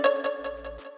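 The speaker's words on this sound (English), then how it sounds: "Finally, I got this Pluck that I also made." Self-made pluck synth playing short plucked notes stepping up the scale in one-semitone moves, about five quick plucks in a second with a low bass tone underneath, alone.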